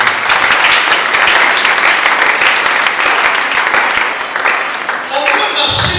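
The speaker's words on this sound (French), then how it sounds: "Acclame très fort pour la gloire de Dieu." Loud, sustained applause and cheering fill a church during a prayer gathering, steady crowd clapping with voices mixed in throughout.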